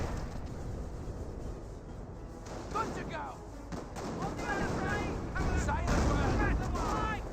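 Rapid gunfire and booming impacts pound a Panther tank in the video game Company of Heroes, dense overlapping shots building in intensity over a few seconds with battle noise beneath.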